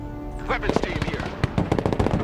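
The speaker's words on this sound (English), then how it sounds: "Heavy weapons team is under fire!" Rapid machine gun fire in the Broken Arrow video game, dense bursts crackling close over a steady battlefield rumble, with shouted voices mixed into the chaos.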